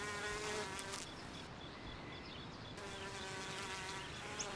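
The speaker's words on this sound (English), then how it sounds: "This honeybee is collecting nectar from a purple kufia flower." A honeybee forages for nectar on a purple cuphea flower, its steady close buzzing holding throughout with slight shifts in pitch and loudness, with no voices.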